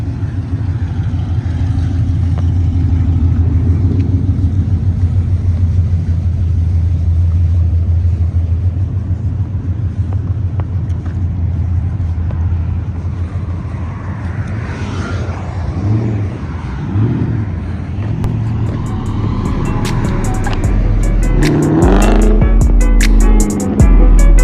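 Car engines rumble steadily at a street car meet takeover, a low continuous drone with a few revs rising near the end, people talking faintly in the background.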